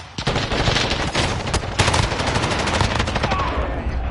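Dense, loud video game gunfire and blasts, including a flashbang grenade, fill the moment in a continuous rattling barrage with sharp bangs standing out, while a voice speaks faintly underneath.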